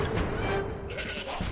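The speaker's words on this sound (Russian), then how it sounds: "А он превращает в козла" A goat bleat from the card game Plants vs. Zombies Heroes, a single short cry sitting loud and close over a dense game soundtrack.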